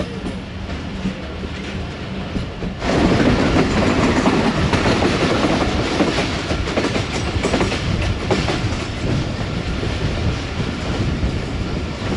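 A Rehman Baba Express train runs on its rails between Rawalpindi and Lalamusa, heard from on board. The rumble starts quieter, then swells after about three seconds into a loud, steady roar with clickety-clack of the wheels.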